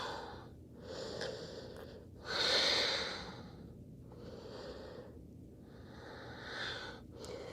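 Slow, steady breathing during a yoga arm-raise, soft rushing exhales and inhales swelling and fading in a rhythmic cycle, close and quiet, with one fuller breath standing out midway.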